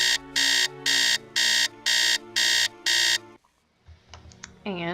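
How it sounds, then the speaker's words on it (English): A Nancy Drew alarm clock buzzes in six loud, evenly spaced bursts, then stops and gives way to a few soft clicks and a short rising tone. "We're gonna set the alarm here to 3."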